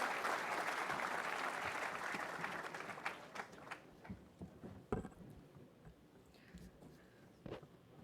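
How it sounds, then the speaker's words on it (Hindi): Applause welcoming a speaker at an event with National Cadet Corps cadets and officers, a strong burst of clapping that thins over several seconds into scattered claps and light footsteps. "और एक बार जोरदार तालियों के स्वागत श्रीमती अंजलि भावरा जी का।"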